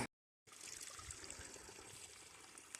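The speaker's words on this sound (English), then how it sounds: "here's my water source for the second half of the day" Water trickling at a spring along the Appalachian Trail, a soft, steady babble that starts after a brief silence and runs faint and continuous to the end.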